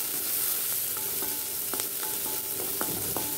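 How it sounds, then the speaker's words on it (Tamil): Onions frying in hot oil in a pan for pattani sundal, a steady close hiss of sizzling broken by sharp spatters and the scrape of stirring, with no voices. "ஆயில் ஹீட் ஆனது நீங்கள் வெங்காயம் போட்டுக்கலாங்க"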